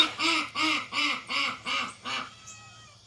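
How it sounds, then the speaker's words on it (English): A duck on a homestead quacks six times in a rapid, evenly spaced run, loud and close, each call a harsh nasal honk, followed by a short quieter pause. "Oh, you heard the duck laugh."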